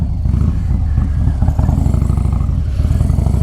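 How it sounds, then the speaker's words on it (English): A Harley-Davidson Low Rider S motorcycle engine rumbles loud and close, its deep, steady throb pulsing without pause for the whole stretch, with light mechanical clatter riding on top and no voices. "I love the sound of this bike"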